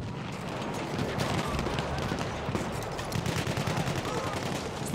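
Battlefield 1 combat carries machine gun fire in a dense, fairly quiet battlefield din. Scattered shots and rattling bursts blend into continuous rumbling noise, with faint voices mixed in.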